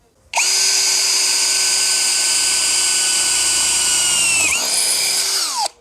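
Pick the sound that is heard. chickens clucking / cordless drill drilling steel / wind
cordless drill drilling steel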